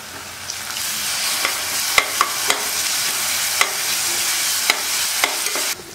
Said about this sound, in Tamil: இஞ்சி பூண்டு பேஸ்ட் வெங்காயம் எல்லாம் நல்லா வதங்கிடுச்சு